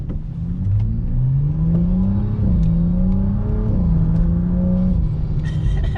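BMW 435i with a newly installed CTS Turbo intercooler revs up and down in sustained, loud engine pulls, the pitch climbing and falling several times, close to the car with no talking.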